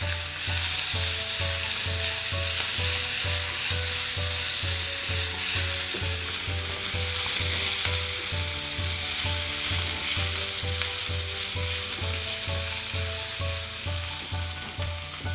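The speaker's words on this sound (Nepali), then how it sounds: "र आलु यतिको फ्राई भएपछि मैले यसमा राखेँ 1 ठुलो चम्चा लसुन र अदुवाको पेस्ट।" Potatoes with a spoonful of garlic and ginger paste fry loudly and steadily in a pan for a capsicum and potato curry, a dense broadband sizzle that never lets up, with no talking.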